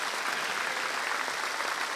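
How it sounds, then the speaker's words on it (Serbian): Studio audience applauding during a television show, a steady, loud wash of dense clapping that continues unbroken throughout. "Molim aplauz ovog gospodina."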